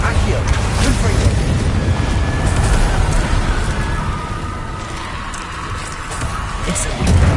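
A Confringo fire-blast spell explodes in the Hogwarts Legacy video game, giving a loud, close booming burst that rolls into a dense, sustained roar of rumble and crackle for several seconds, with a voice mixed into the clamor.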